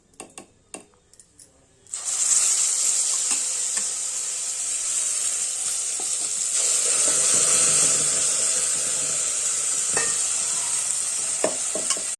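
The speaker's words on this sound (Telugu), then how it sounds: "పొగలు కక్కుతా ఉంది కదా, ఇప్పుడే పచ్చడి తాలింపు వేసా కదా." A few light clinks, then a loud, steady sizzle as a hot tempering with curry leaves and turmeric is poured into tomato chutney, hissing up close and fading only slightly over several seconds.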